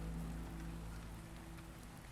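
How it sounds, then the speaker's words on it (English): Heavy rain pours steadily in the video game Rainswept, a constant dense wash with low tonal hum lines running underneath, fairly quiet overall and unbroken by speech. "I can't hear you over the rain."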